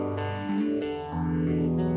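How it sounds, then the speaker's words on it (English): A modulation effect from Native Instruments Komplete colors a distorted synth chord that shifts and wobbles, changing pitch twice in under two seconds, loud and steady with no voices. "And let's drop a modulation effect into the second mix."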